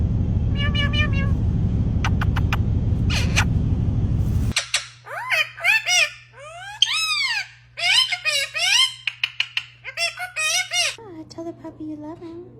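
Parrot imitating a cat's meow and chattering in squeaky, rising calls, close and clear after a noisy start, with a person's voice nearby.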